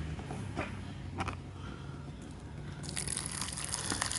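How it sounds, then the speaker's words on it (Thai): Hot water is poured into a cup of Vietnamese Miliket Mi Thap Cam instant noodles, a soft gushing trickle with light creaks and a plastic rustle, faint and close. "ใส่น้ำร้อนไปภาษาเวียดแบบน้ำร้อน"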